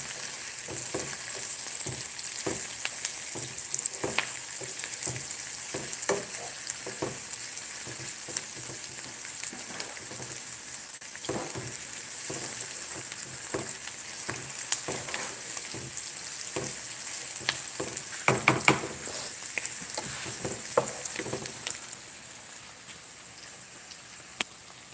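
Bitter squash dish ingredients fry and caramelize in a pan with a steady, fairly quiet sizzle and scattered soft pops and stirring clicks throughout, tapering off at the end.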